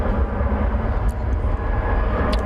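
An American Airlines Airbus A319 airliner at DFW Airport roars steadily nearby, a continuous loud broadband engine rumble with no pauses and no voices.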